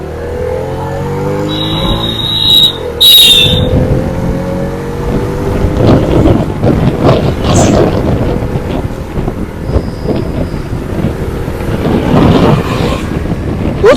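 A Bajaj Freedom CNG motorcycle rides along at speed, with a steady engine drone heavily buffeted by wind noise on the microphone and a few brief higher tones early on.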